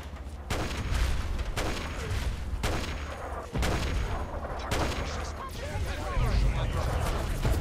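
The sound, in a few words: enemies firing guns in the video game Fallout 3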